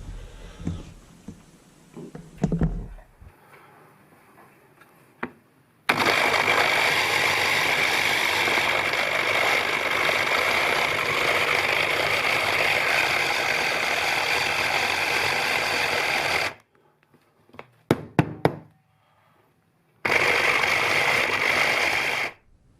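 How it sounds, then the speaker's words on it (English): A small food processor whizzes lamb meat into a near paste, a loud steady motor whir running for about ten seconds, then stopping, followed by short clattering bursts and another sustained run near the end. "put my meat in my processor and just give it a good whizzing up till it forms like a paste almost"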